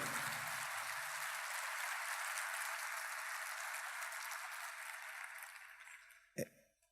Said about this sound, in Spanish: Un aplauso, por favor, para Agustín Laje.